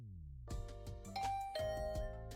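A doorbell in the video game Hundred Line Last Defense Academy rings with bright, clear chime tones in a quick ding-dong sequence, then rings again, over a steady background music bed.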